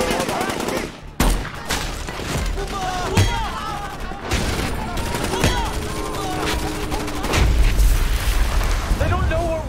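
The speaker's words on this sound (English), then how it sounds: "We're receiving small arms and indirect fire from hostile troops." Heavy gunfire from the film Shooter: bursts of machine-gun and small-arms fire crack again and again over booming explosions. Tense radio voices talk over the noise.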